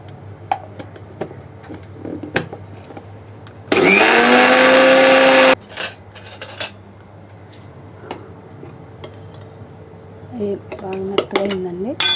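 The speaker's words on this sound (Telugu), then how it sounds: "చల్లారిని నేను మిక్సీ పడుతున్నాను మెత్తగా" Mixer grinder whirring loudly for about two seconds as it blends cooked tamarind into a smooth paste, with scattered clinks of utensils and brief faint voice sounds before and after.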